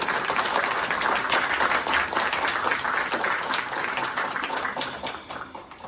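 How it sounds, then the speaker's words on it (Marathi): An audience at a stage music program applauds, a dense wash of many hands clapping together at steady strength before tapering off toward the end. "एकदा त्यांच्यासाठी जोरदार टाळ्या होईल."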